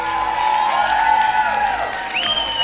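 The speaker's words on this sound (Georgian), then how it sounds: "მხურვალე აპლოდისმენტები გავაცილოთ ანდრიმ" Warm applause mixed with cheering and whoops rises from the audience at a live concert, a dense, steady wash of clapping that holds for the whole stretch without a break.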